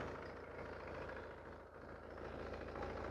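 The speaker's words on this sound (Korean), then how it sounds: "자, 엔진 소리 이렇게 들려보시면 밸런스가 되게 좋죠." A Mercedes-Benz C220 diesel coupe, third-generation C-Class, idles with a steady, low, even engine drone, faint and continuous with a brief dip midway and no talking over it.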